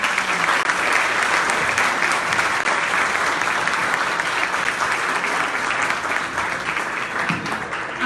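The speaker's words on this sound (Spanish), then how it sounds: "los invito a que los despidamos con un fuerte aplauso" An audience applauds the departing panelists at a book presentation, a strong, continuous wall of clapping that holds steady and tapers only slightly near the end.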